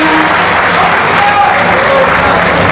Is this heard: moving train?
no